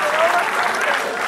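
A concert audience at a Netanya festival applauds steadily, a dense close wash of clapping hands with no pause across the short stretch.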